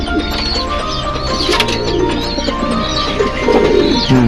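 Racing pigeons back from a 186 km release coo in low, throaty repeated calls close by, with a few chirps and a brief flutter of wings over outdoor background noise.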